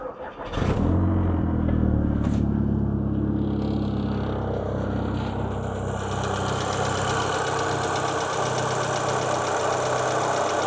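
A VW Caddy with a 2.0 TFSI engine, which has a top-end rattle, cranks and fires up at close range, then settles into a steady, loud idle with a faint metallic clatter running underneath.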